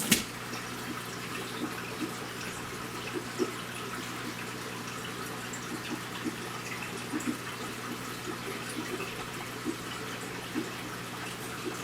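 Aquarium water being swished around by hand to stir up debris in a planted shrimp tank, producing a faint, steady watery sloshing with small splashy peaks throughout, no voices.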